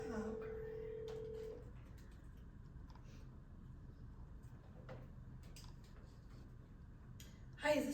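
A telephone call is dialed during a committee meeting: a short steady keypad tone at the start, then faint quiet line noise with scattered small clicks and a louder bump at the end.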